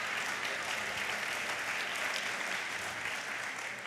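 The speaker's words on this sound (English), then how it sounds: "Little birthday sympathy applause." An audience gives a short round of birthday applause, steady and moderately loud, clapping continuously without voices for a few seconds.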